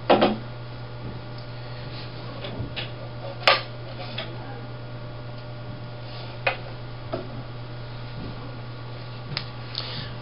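A spool being taken off a line rewinder produces scattered sharp clicks and light knocks of handling over a steady low mechanical hum, with no one speaking.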